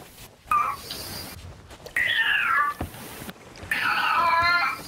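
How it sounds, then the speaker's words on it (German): A domestic cat, apparently in heat, meows three times in separate drawn-out calls, loud and close, with quiet room noise between them. "das ist die Katze"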